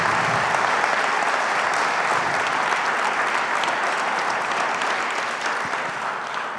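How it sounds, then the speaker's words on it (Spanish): A church congregation claps loudly and steadily for several seconds as a dense, sustained wash of applause that fades slightly toward the end, with no voices standing out. "Pero un aplauso al Señor."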